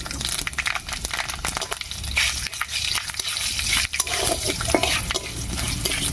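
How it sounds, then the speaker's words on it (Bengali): Dried red chillies and whole spices crackle and sizzle in hot mustard oil in a kadai while a spoon stirs and scrapes steadily, close and fairly loud, with no voice. "তেলের মধ্যে দেবো কয়েকটা শুকনো লঙ্কা এক চামচ মতো ফোড়ন"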